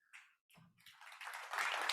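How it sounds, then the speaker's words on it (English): Audience applause after a memorial tribute to Rusty Lusk: a few scattered claps at first, then clapping swells into steady, dense applause from the crowd. "thanks for the applause"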